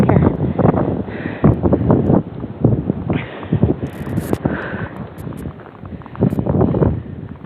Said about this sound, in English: we got some wind down here